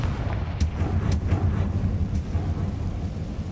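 The Confringo fire spell in Hogwarts Legacy bursts with rumbling, booming blasts, several sharp impacts over a continuous low roar.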